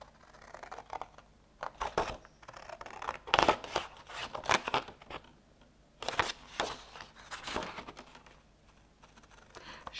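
Scissors snip through paper while a scrapbook card is made, a series of short, close crisp cuts in irregular bursts with quiet gaps between, no talking.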